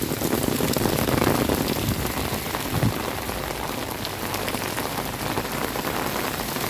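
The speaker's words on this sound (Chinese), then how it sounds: "天下大雨" Heavy rain pours down at a temple in Tainan, Taiwan, a loud, continuous wash of drops drumming on surfaces close by, with no talk.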